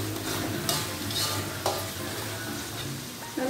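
Fried fish in a sweet-and-sour soy sauce being stirred in a hot oiled pan, a continuous crackling sizzle broken by a couple of spatula scrapes, close up and without voices.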